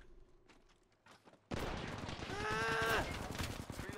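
Rapid automatic gunfire in the video game Apex Legends, a loud burst of shots that starts abruptly after a quiet lead-in, with sharp ringing tones mixed in.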